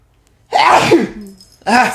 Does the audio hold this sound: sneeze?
yes